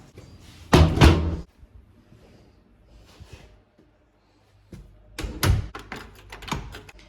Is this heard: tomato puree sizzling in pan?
no